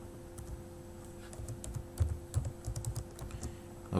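Soft, quick keyboard typing, irregular clicks and taps close by over a steady low hum, with no talking.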